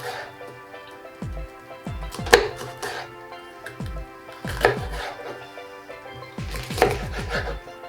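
A knife chops green pepper on a cutting board in three quick clusters of sharp, close knocks separated by short pauses, with no talking.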